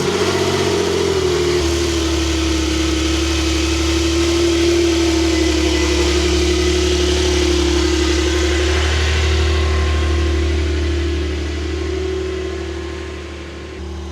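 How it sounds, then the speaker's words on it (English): A Porsche Turbo S engine on a cold start holds a loud, steady high idle with a droning hum close by, then settles noticeably quieter near the end. "Turbo S on cold startup sounds pretty good"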